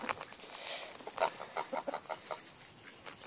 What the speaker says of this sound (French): Ensuite, il y a la poule, la blanche là. C'est la poule blanche.